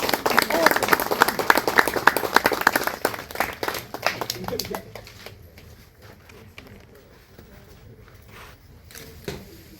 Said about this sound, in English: Clap her, man. Clap her. Make her awesome.